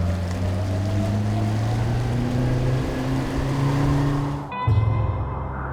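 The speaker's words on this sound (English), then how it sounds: "Okay, little juice on the motor." A boat's outboard motor runs steadily on a fishing trip, a loud droning hum that rises in pitch as it is throttled up, then briefly dips and shifts near the end.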